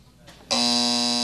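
A loud, steady electronic game-show buzzer sounds abruptly after a brief pause and holds its harsh tone on the Sale of the Century set.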